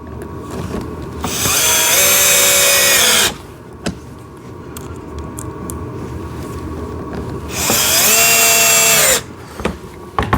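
A power drill drives small screws into a JCB toy ride-on tractor excavator in two loud whirring bursts of about one to two seconds each, separated by quiet handling noises.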